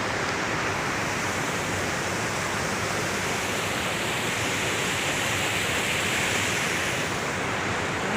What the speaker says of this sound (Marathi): आता बंधारा फुल भरलेला आहे आणि तो उलटून चाललेला आहे